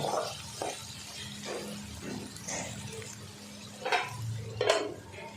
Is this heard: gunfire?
no